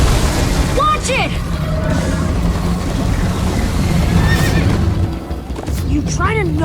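Horses in the Minecraft Story Mode video game neigh and whinny repeatedly over galloping hoofbeats, loud and close, with characters talking throughout the chase.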